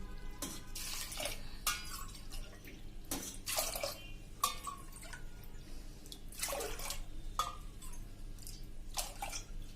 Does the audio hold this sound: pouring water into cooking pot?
yes